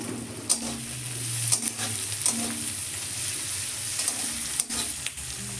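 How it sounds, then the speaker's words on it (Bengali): Capsicum frying in a pan, a steady close sizzle with scattered crackles and the scrape of stirring running through all five seconds, no talking. "এবারে ক্যাপসিকামটা দিলাম, ক্যাপসিকামটা দিয়ে একটু ভেজে নেব।"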